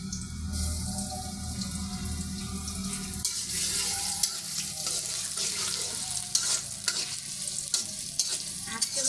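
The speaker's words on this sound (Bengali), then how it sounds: "এই যে পেঁয়াজটা আমি একদম লাল লাল করে ভেজে নেবো" Onions frying in a pan until browned, a close, steady sizzle with stirring and clinking from the utensil, alone with no talk.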